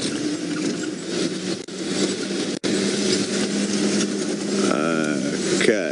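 A safari game-drive vehicle at a leopard sighting pulls away, its engine revving up steadily and close by under continuous bush ambience, with a rising whine near the end.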